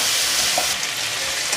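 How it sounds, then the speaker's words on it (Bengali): Potatoes sizzle in hot oil with turmeric in a pan for a samosa filling, a close, steady frying hiss broken by brief scraping stirs, with no talking. "আলুটা একটু ভাজা ভাজা হয়নি"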